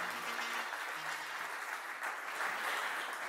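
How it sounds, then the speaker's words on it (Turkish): Strong applause at a groundbreaking and opening ceremony in Beylikdüzü for two children's council members, Öykü and Emre Berat: a dense, even roar of many hands clapping alone for several seconds. "Kuvvetli alkışlarınız Öykü ve Emre Berat için gelsin."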